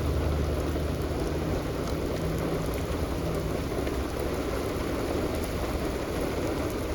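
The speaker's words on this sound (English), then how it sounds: "I can even make videos in the rain." Steady, heavy rain pours continuously at Fulton Harbor, a dense wash of patter with no pauses and no voices.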